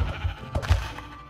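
A single short sheep bleat from Minecraft on PS4, close and clear with a wavering tone, over low background rumble.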